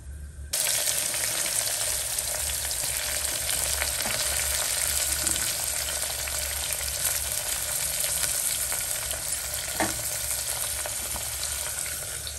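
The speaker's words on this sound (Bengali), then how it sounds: "তো এবার দিচ্ছি আমি পেঁয়াজ কুচি।" Chopped onions sizzle and fry steadily in hot oil for mutton korma, a loud continuous crackling hiss running throughout with faint stirring clinks now and then.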